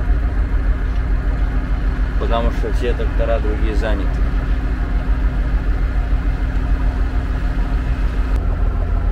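MTZ 1025 tractor with a seeder hitched, its diesel engine idling as a steady low rumble throughout while someone talks over it partway through.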